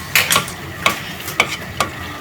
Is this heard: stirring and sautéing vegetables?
yes